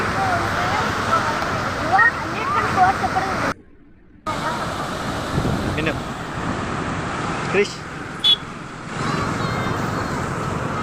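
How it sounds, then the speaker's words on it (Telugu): Fast, heavy water rushes under a bridge in a steady broadband roar that fills the whole clip, with a brief dropout partway through and occasional clicks; a person speaks over the flow. "బ్రిడ్జ్ అంతా సౌండ్ వినిపిస్తుంది ఆ వాటర్ ఫ్లో అయ్యే సౌండ్"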